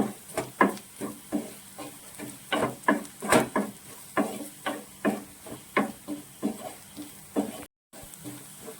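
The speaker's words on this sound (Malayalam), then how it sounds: "മുളക് പൊടി ഇതെല്ലാം കൂടി നന്നായിട്ട് വഴറ്റി യോജിപ്പിക്കണം" Chilli powder and masala get sautéed in a pan, with a rhythmic series of scraping, tapping stirs about twice a second over a faint sizzle.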